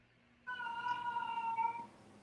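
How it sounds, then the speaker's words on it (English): A house cat lets out a single drawn-out meow, tonal and clear, lasting just over a second, fairly close in an otherwise quiet indoor space. "That if you can hear that, that's my cat."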